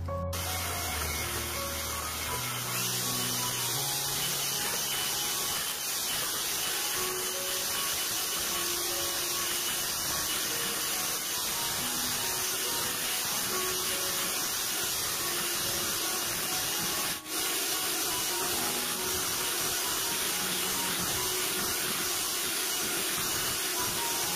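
An electric mixer beats sponge cake batter for steamed bolu kukus at maximum speed, giving a constant loud whirring hiss that stays level throughout with no voices.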